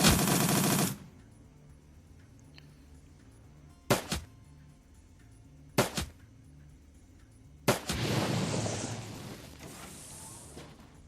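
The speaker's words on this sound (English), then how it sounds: "Let's try a burst fire." Short bursts of automatic gunfire from the Shadowrun: Dragonfall video game: a loud opening volley, then three sharp separate shots, and a final longer rattling burst that trails off, over a low droning game soundtrack.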